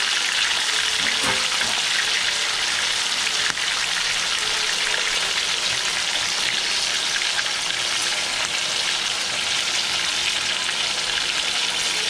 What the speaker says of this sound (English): in the same pot, while one chuleta is cooking, I'm gonna put my maduros